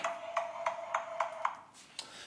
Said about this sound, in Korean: 미안합니다. 전화가 왔어요.